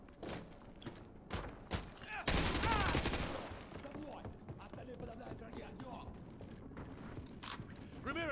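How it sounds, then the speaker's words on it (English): Gunfire in the Call of Duty Modern Warfare 2 Remastered game, with several sharp single shots and a dense rapid burst of automatic fire, under shouted voices and battle noise. "Подавляем враги огнем!"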